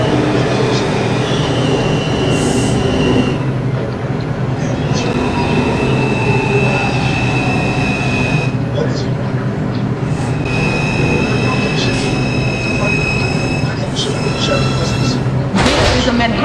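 An R142 5 train on the NYC subway runs between stations with a loud, continuous rumble and several high wheel squeals, plus a sharp burst near the end. A voice speaks briefly over the noise.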